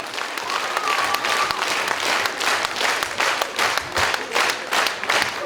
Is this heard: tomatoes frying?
no